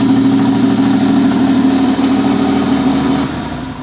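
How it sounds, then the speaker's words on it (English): An air-cooled boxer engine idles close and loud in a steady, throbbing burble, easing off slightly near the end. "it's just an air-cooled boxer engine, so it kind of just like sounds like a juicy Beetle"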